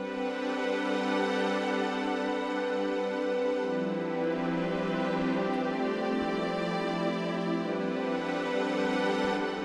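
Two Korg M1 synthesizer presets layered together, a dense sustained pad chord that shifts to a new harmony partway through, steady and full throughout with no talking.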